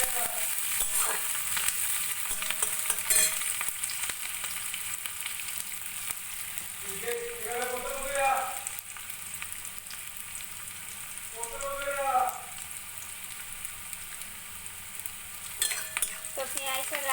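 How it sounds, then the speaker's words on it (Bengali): Chopped onion fries in a pan for chicken curry, browning to a reddish colour. A steady, close sizzle runs throughout with occasional stirring scrapes, and brief faint voice-like sounds appear in the middle. "তো পেঁয়াজটা লাল লাল ভাজা হয়ে গেছে"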